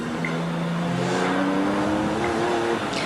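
GT race car at Silverstone in 1995 accelerates through the gears, a steady rising engine drone with shift steps heard from onboard, moderately loud under a constant wet roar of road and wind noise.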